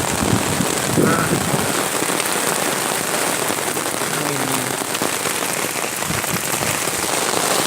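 Strong wind and heavy rain storm roaring steadily and loudly throughout, a dense continuous wash of rain with gusts, close and enveloping.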